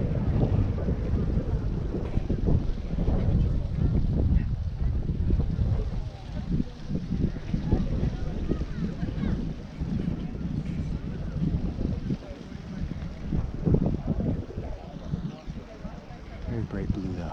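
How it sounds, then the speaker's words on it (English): Steady wind at Grand Prismatic Spring in Yellowstone buffets the microphone in a continuous low rumble, with faint background sounds beneath. "It's so steamy and windy today."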